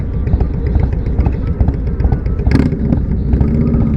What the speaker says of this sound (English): Indian, that's a nice fucking bike.